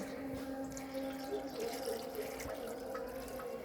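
Tap water from a chlorinated line pipe runs and splashes as a batch of small sardines is rinsed, quiet and continuous with faint drips.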